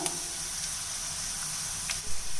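Bitter gourd pieces frying in oil in a heavy-bottomed pan give a steady, close sizzle and hiss that runs unbroken throughout, with a few faint clicks and no talking.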